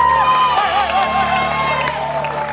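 Studio audience on the Indonesian game show Family 100 applauds and cheers for a contestant family, a loud, steady crowd wash with whoops under bright show music, lasting the whole stretch.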